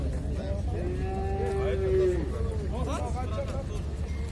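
A cow at a livestock market lets out a long, loud moo close by, with a second shorter lowing call after it, over crowd murmur and people talking nearby.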